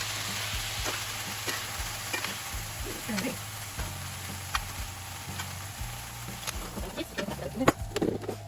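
Food sautéing in a pan during Sunday meal prep gives a steady low sizzle with scattered stirring clicks and taps, under a constant hum, with brief kitchen knocks near the end.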